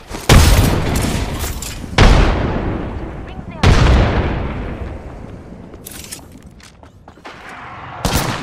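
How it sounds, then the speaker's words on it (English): Loud, close booms from grenade explosions and gunfire in the Apex Legends video game, several heavy blasts spaced a few seconds apart, each trailing off into a rumbling decay. "Grenade out! Throwing grenade!"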